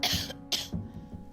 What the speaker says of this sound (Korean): 기침이 심한데요